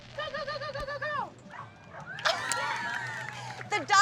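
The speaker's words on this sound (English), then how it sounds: "Let's watch these talented canines run, jump, and dive into first place." Dogs bark, yip and whimper at an outdoor fair's dock-jumping competition, a steady run of close barks followed by crowd noise and cheering voices.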